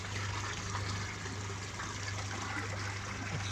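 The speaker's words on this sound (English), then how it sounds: "It's water coming back from the bed." Water running back from an aquaponic grow bed into a tank holding yabbies in Lightning Ridge, Australia, a continuous close trickling and splashing stream with a low steady hum underneath.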